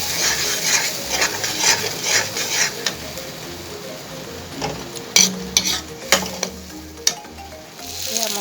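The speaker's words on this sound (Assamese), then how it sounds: "এইটো 5 মিনিটমান সময় মই ভাজিম ভালদৰে।" Spices frying in a pan with a steady sizzle, stirred with repeated scraping strokes of a spatula that grow sharper and louder toward the end, no talking.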